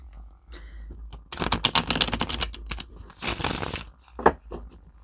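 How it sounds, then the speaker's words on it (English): Bursts of tarot cards being shuffled, crisp riffling and flicking in short runs with brief pauses between, close up. "but it means I have to keep shuffling"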